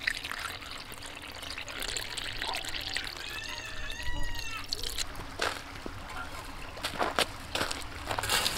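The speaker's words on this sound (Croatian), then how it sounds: "Kada sam sarmu prekrio kiselim kupusom, nasuću vodu." Water is poured over sauerkraut-covered sarma in a pot outdoors in freezing cold, giving a quiet, trickling and splashing flow with a few sharper sloshes and faint chirping in the background.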